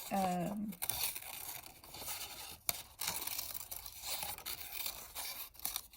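Scissors cutting through scrap paper for a pop-up book, a series of crisp snipping and rustling crinkles close by, with a brief voice at the start.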